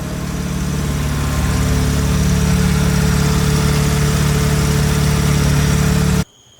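Mazda FD RX-7 rotary engine idling while warming up, a loud, steady, close droning hum with a constant low pulse, alone until it cuts off abruptly at the end.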